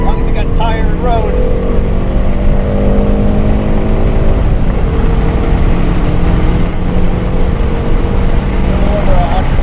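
A Hyundai Veloster N or Ford Focus RS accelerates hard on a racetrack with a loud, steady engine drone and rising tones, heard from inside the car under constant wind and road roar.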